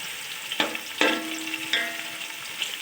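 Two medium onions frying over low heat in cooking oil make a quiet sizzle, with a few sharp taps or scrapes from the pan standing out over the low hiss.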